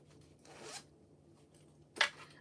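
A zipper on a lined fabric pouch runs in two quick, quiet pulls, a softer one followed by a sharper, brighter zip after a short pause, in an otherwise quiet room.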